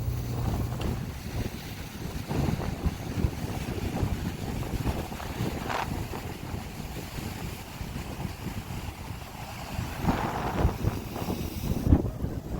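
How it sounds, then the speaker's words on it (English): Strong wind buffets the microphone outdoors on the Florida coast in a steady, rumbling roar, with gusts swelling and fading over the whole stretch. "I don't know if you can hear me because it's so windy."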